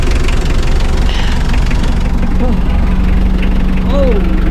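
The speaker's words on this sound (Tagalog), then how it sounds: "Pero di na natin papatayin yung makina." A car engine keeps idling while its battery is swapped by an auto electrician, a loud, steady low rumble throughout, with someone talking nearby over it.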